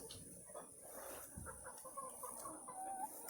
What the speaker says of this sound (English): That's definitely a rooster there.